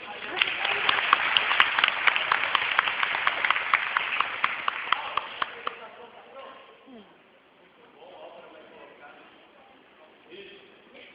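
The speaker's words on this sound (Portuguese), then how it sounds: "Senhoras e senhores, eu quero pedir um aplauso para o Álvaro." An audience at a cultural centre event in Rio Claro claps in a dense, steady burst for several seconds, then the applause fades into quieter room noise with faint voices.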